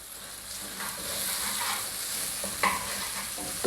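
Onions roasting in a pan for an aloo samosa filling, a soft continuous sizzle with scraping stirs of a spatula and a sharp clink near the end, close and without talk.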